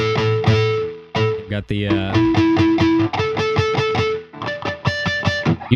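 An electric guitar played with reverb on, its clean notes plucked in a steady phrase and ringing out with a lingering tail, while a person briefly speaks over it.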